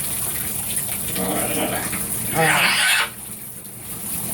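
Shower water runs and gushes around a pet scarlet macaw, a steady spray that swells louder for a moment near the end, with a voice talking to the bird over the water.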